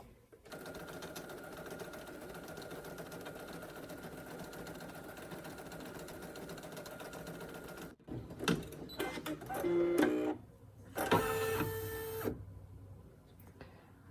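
An embroidery machine stitches a word in the hoop with a steady, even mechanical hum for about eight seconds, followed by shorter irregular whirs and clicks.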